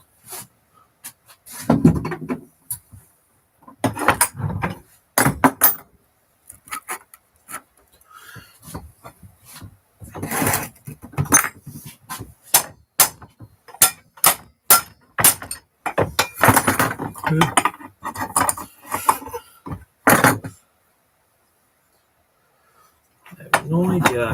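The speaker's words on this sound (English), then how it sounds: "I'm going to move straight to the metal hammer for this." A metal hammer strikes a Clayton Dewandre brake cylinder in a workshop, producing sharp, close knocks in irregular bursts, with clusters of rapid blows, a long pause near the end, then a few more hits.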